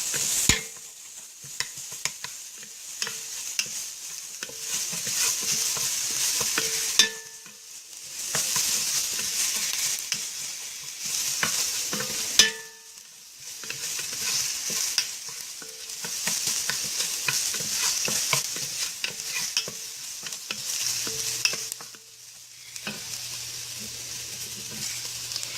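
Garlic frying in a pan for a baked meatball ziti, giving a bright continuous sizzle with intermittent stirring scrapes, several brief pauses, and no voices.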